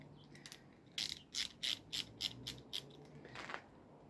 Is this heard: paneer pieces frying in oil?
no